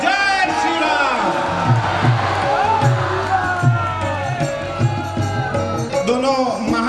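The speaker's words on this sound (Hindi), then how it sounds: "तालियों की गनगनाहट के साथ में जय श्री राम के नारे के साथ में" A large crowd at a Ram Katha religious gathering cheers and claps in a sustained roar, with shouting voices and a steady rhythmic beat running beneath the noise throughout.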